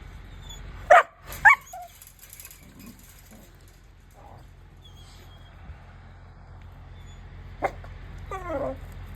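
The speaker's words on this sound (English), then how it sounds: "we made it over here to let dogs out, and they're already out in the pen" Dogs in an outdoor pen give a few sharp barks near the start and again later, spaced apart, over a quiet outdoor background.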